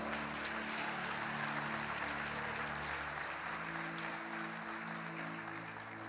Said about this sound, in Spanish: Si lo quiere, dé un fuerte aplauso al Señor hoy.